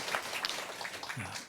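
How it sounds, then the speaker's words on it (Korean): A church congregation claps together after a sung Easter cantata, a brief, faint, dense patter of applause heard from a distance. "하나님께 영광의 박수를 한번 더 같이 올리겠습니다."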